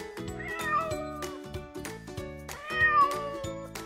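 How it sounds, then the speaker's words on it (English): A black cat meows twice, each a loud, drawn-out wailing cry, over a bouncy backing tune with a regular beat. "Look at the black cat."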